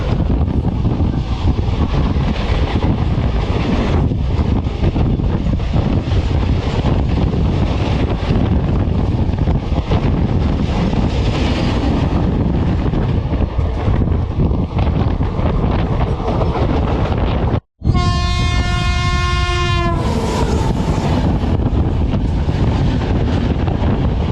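A Sabari Express train runs through Chalakudy station without stopping. Its loud, steady rumble and rushing wind fill the whole stretch, and a train horn sounds briefly near the end.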